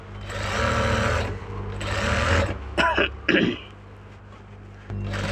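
A sewing machine runs in two sustained loud bursts, stitching an edge seam along raw fabric for a blouse belt, with a pause between and a few short clattering sounds after.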